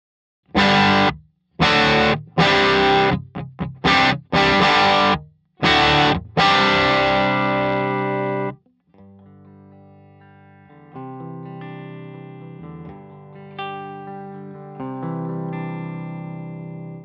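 Electric guitar through a Tonkraft Phoenix amp and 2x12 cabinet, edge-of-breakup distortion: loud choppy chord stabs with short gaps, then softer sustained ringing notes and chords, played alone without voices.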